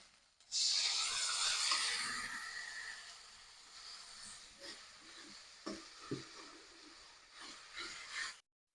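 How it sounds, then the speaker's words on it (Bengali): Garlic, onion, young ginger and garlic paste hit hot oil in a pan with a loud, bright sizzle that gradually fades, followed by scraping stirs and light clatters, close by with no talking. "রসুন পেঁয়াজ কচি আদা রসুন বাটা দিয়ে দিলাম দিয়ে একটু ভেজে নিলাম"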